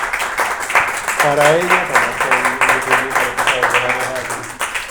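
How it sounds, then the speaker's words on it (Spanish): A small seated audience at a poetry reading claps steadily for several seconds as someone speaks in Spanish over the applause. "yo pido un aplauso"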